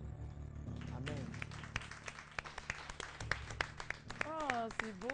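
Studio audience applause on the RTI 1 morning show Matin Bonheur, a scattered patter of hand claps rising and falling over a few seconds while a presenter's voice and music carry on over it.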